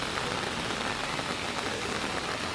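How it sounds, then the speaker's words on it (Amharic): Heavy rain pours steadily and densely in Kebena Park, Addis Ababa, a close, even hiss of drops hitting surfaces with no voices. "ኃይለኛ ዝናብ እየዘነበ ስለሆነ ፓወሩ በጣም ጨምሯል።"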